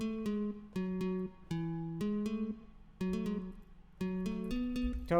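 A synth melody of plucky, sustained tones in short clustered phrases, separated by brief pauses, clear and alone.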